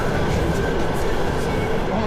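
A passenger train runs on rails between Aktau and Aktöbe in Kazakhstan, a steady close rumble and rattle of the carriage filling the cabin with broadband noise throughout.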